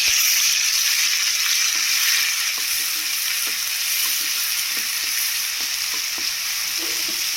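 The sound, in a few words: masala paste frying in oil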